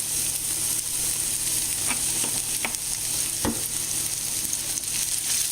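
Jalapenos and onions fry in a little olive oil in a drying pan, a constant close sizzle with occasional scraping knocks as the vegetables are stirred.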